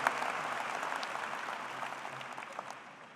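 A seated audience at a spring graduate school commencement claps to welcome the speaker, steady dense applause that fades slightly over a few seconds.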